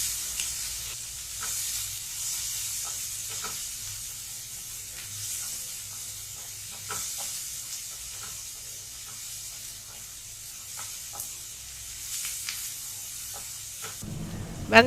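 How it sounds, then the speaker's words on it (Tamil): Onions sautéing slowly in a pan for a Tamil mutton brain gravy, giving a quiet, steady sizzle with occasional stirring clicks and a low hum underneath, with no talking. "பொன்னிறமாக வர வரைக்கும் மெதுவாக வதக்கிட்டே இருக்கலாம் வெங்காயத்தை."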